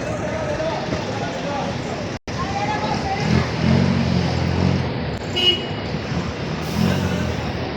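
A provincial bus passes along a busy road near a mall in Alabang, its engine rumble and traffic noise rising mid-clip with a brief horn-like tone, heard under steady talking.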